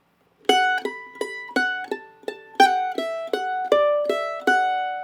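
Solo mandolin plays the opening phrase of an Irish jig's B section, crisp plucked notes in a lilting rhythm with ringing decays, close and unaccompanied after a brief silence.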